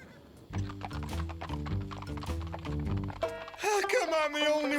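Cartoon horses neigh and their hooves clip-clop in a steady galloping rhythm under a music score, with a rising whinny near the end.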